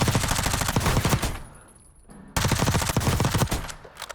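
Submachine gun fire in a shooter video game, from a weapon fitted with a drum magazine and factory stock: a loud, close, rapid burst lasting over a second, a short pause, then a second sustained burst.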